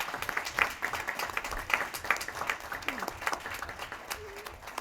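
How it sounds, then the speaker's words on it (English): Applause from an audience at a school board meeting in honor of fourth grade students, soft and distant, a steady patter of many hands with faint voices mixed in. "I thought maybe we could give them a big round of applause as well."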